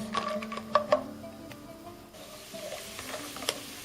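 Raw blanched almonds roast in a pan, with a soft steady sizzle and scraping stir strokes plus a few sharp clicks of the utensil against the pan, close and fairly quiet.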